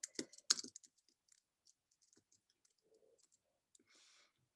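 Keys tapped on a computer keyboard, a few close, crisp clicks at first, then sparse, quieter scattered taps and short clicks against near silence.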